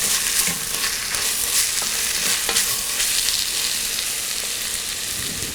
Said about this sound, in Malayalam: ഇനി ഇതിലോട്ട് നമ്മൾ എടുത്തു വെച്ചിരിക്കുന്ന ഗരം മസാല ഇട്ട് വഴറ്റുക.